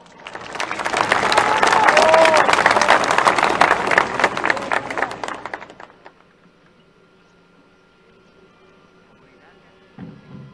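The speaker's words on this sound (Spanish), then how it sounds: "Para ella, por favor, un fuerte aplauso." An audience applauds at the inauguration of a lithium carbonate industrial plant, loud clapping swelling then fading out around six seconds, followed by near silence and a brief faint rustle at the end.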